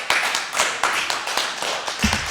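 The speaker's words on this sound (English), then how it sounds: "big round of applause for the AMVETS Association" A small crowd at a veterans' gathering claps for the AMVETS Association, a thin patter of individual handclaps with distinct, uneven beats, fairly close.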